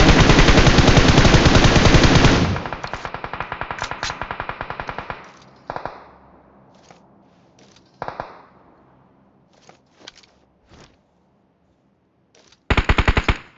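A shooter video game's automatic gunfire rattles in a long dense burst, then breaks into scattered shorter shots and single cracks with pauses between, ending in another sharp burst.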